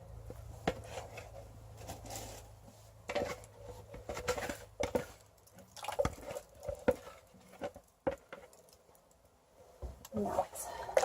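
Powder is poured into liquid for a large batch of honey beeswax soap in a small space, with scattered taps, patters and soft splashes under intermittent nearby talk.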